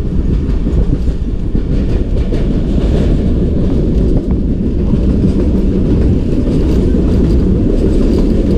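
Jaffar Express passenger train running through the brown mountains of the Bolan Pass between Sibi and Quetta, a loud, steady rolling rumble with faint clickety-clack of wheels heard from on board, continuous with no talk.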